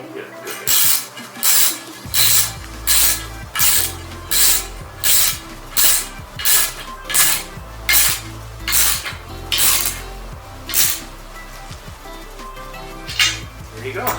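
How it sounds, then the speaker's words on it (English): A ratchet tightens a lock caster on a honey extractor stand, its loud metallic clicks coming in a steady repeating rhythm of strokes close by, with no talk. "So you see here, Bev, she's gonna tighten it up, and I'm gonna hold the caster down so that it does not move."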